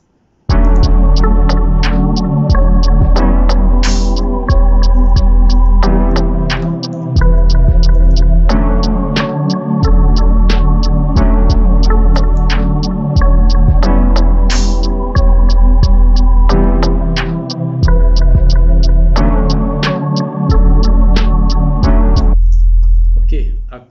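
A lo-fi beat plays back with a deep, booming kick and a bass line under looping chords, plus small ticks and a brief high accent. The pattern repeats steadily, loud and continuous, with no voices.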